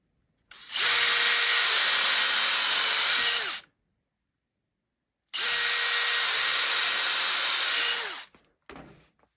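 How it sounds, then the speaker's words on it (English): Two separate bursts of a high-pitched power drill boring small holes in Kydex, each running steadily about three seconds, separated by a pause, then a brief clatter. "I'm going to follow up and I'm going to drill the 2 small holes that I have on here"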